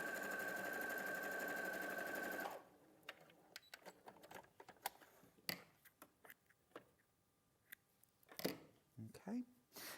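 A sewing machine runs a quarter inch seam in a quilting setup, a loud steady burst lasting a couple of seconds, then stopping into quiet handling clicks and ticks as a person talks.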